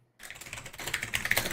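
Fast, close typing on a computer keyboard, a dense run of light clicks that starts after a brief silence and grows louder and sharper toward the end.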